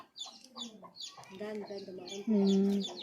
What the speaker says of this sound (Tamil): அது வந்து அது வளர்த்த கோழி தான்